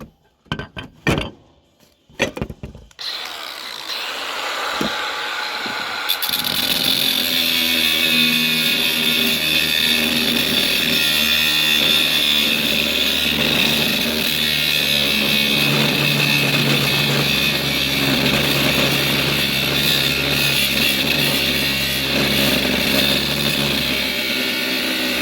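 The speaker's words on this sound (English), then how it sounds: "Got my hobo freight grinder here." After a few scattered clinks and knocks, a cordless Harbor Freight grinder spins up and cuts into a John Deere square baler part, holding a loud, steady, harsh whine for roughly the last twenty seconds.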